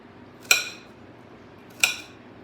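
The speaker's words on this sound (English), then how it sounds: "So then rough chopping all the way back to the left." A knife rough-chops an onion on a cutting board in a home kitchen, two sharp, bright knocks about a second and a half apart against a quiet background.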